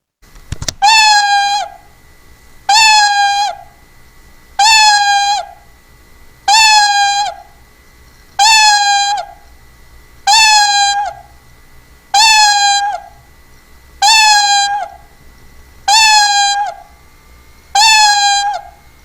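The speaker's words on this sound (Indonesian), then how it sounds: "jadi nanti kita tinggal isi aja mau berapa kali dia mengeong" The Scratch cat sprite meows over and over in a repeat block, nine identical cartoon meows spaced evenly about two seconds apart, loud and clear with silence between them.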